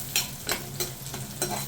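Chopped garlic and green chillies sizzle in hot oil in a pan while a spoon scrapes and stirs in a few quick, separate strokes, close and fairly loud.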